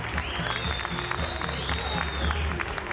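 Applause from an audience for a speaker at a live event, moderate and steady over a low hum and a faint tone.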